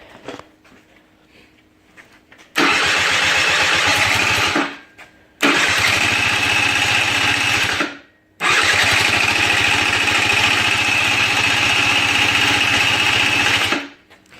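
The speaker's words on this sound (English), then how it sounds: "we're gonna try and start it" Someone tries to start a Suzuki LT80 ATV under repair. Its small engine cranks and revs loudly in three sustained bursts, with short gaps between them, then cuts out each time.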